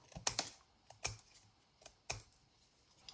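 Scissors cutting around a handmade soft ring binder journal cover, a few sharp snipping clicks spaced irregularly, close and fairly quiet, with no talk.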